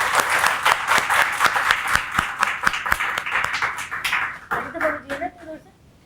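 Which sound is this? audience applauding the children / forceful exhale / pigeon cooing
audience applauding the children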